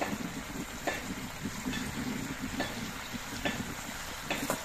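Steady soft sizzling and simmering of a vegetable gravy with winter vegetables and spring onion as pre-fried fish goes into the pan, a continuous low bubbling hiss with a few faint clicks and stirs.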